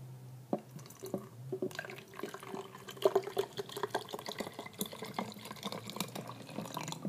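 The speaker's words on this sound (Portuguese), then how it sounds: "Aí a gente vai colocar a água." Water poured into an empty baby bottle, a thin, trickling stream with small splashes and drips that rises slightly in pitch as it fills, heard close and alone at low volume.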